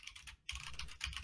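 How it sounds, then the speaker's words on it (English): Close computer keyboard typing in a rapid, continuous clatter of keystrokes, pausing briefly before resuming, loud and sharp in a quiet setting. "Your typing is super loud."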